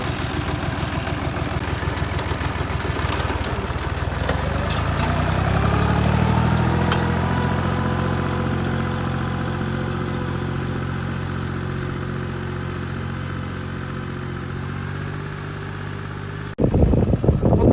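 Dongfeng 254 tractor pulling a homemade two-furrow plough, its engine droning steadily and close for most of the stretch with a rising, loading tone early on, ending in a brief rougher burst.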